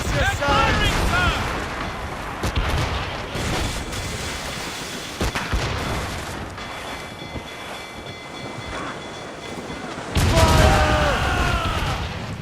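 Ship cannons boom during a naval battle in Assassin's Creed Rogue, heavy bursts rolling over a constant rumble, while voices shout through the fight.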